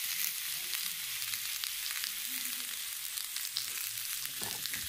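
New Zealand lamb sizzles and spits on the cooking plate of a dry-stacked single-brick box rocket stove, a steady close crackling hiss with scattered sharp pops, carrying on with no talk over it.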